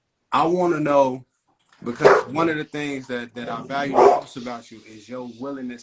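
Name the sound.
dog barking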